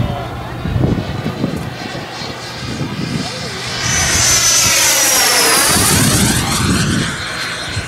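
A radio-controlled model jet aircraft, resembling an F-18, flies at a funfly event, its engine whine rising and sweeping past loudly mid-clip over wind buffeting, with people talking throughout.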